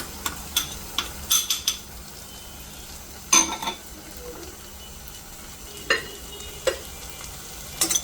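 Chicken frying in oil in a pan as ground turmeric, cumin and chili powder are added, with a soft steady sizzle under repeated sharp clinks and scrapes of a spoon stirring against the pan.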